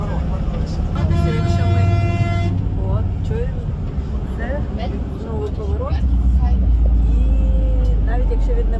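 A long bus horn honks in a long sustained blast before a turn, then a few shorter toots, over loud engine rumble and traffic with people talking nearby, on a winding road in Tenerife.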